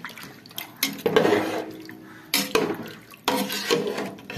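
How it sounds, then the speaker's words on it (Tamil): Water is poured from a cup into a cooking pot for chicken biryani in a village kitchen, arriving in three separate splashing pours with clinks of metal between them and no speech. "இப்போ நான் 4 கப்பு தண்ணி ஊற்றிட்டேன். இன்னும் கொஞ்சம் இன்னும் 1 கப்பு தண்ணி ஊற்றணும்."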